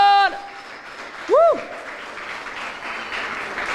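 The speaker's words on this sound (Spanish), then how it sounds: "Dale fuerte el aplauso al Señor." A church congregation applauds after a sermon on the prodigal son, a building wash of clapping that follows a short tonal sound and a brief sung-like phrase, moderately loud and steady.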